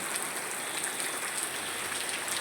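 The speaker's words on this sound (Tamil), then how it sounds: "தூத்துக்குடியில் கனமழை பெய்ய தொடங்கிவிட்டது" Heavy rain pours down in Thoothukudi, a dense, steady hiss of downpour on surfaces that stays loud and unbroken throughout, with no voices.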